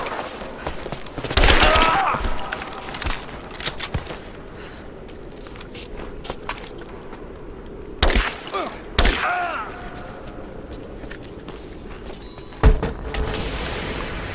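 Gunfire in the video game Rise of the Tomb Raider: loud, sharp shot bursts and booms at scattered moments, with thuds and footsteps between them and a constant low background rumble.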